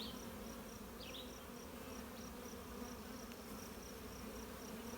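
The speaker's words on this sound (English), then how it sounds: "These young bees are very ambitious by the looks of it" Honey bees in a nucleus colony hive hum in a dense, steady drone throughout, close and continuous, while the frames are being inspected.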